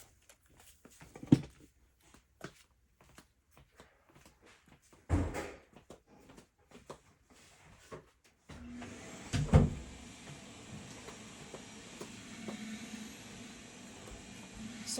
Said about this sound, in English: Let me go shut my door.